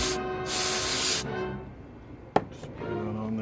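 Electrical cleaner sprayed from an aerosol can onto a corroded Mercedes-Benz alarm siren circuit board, a loud close hissing burst repeated twice in the first second, then quiet handling with a sharp click.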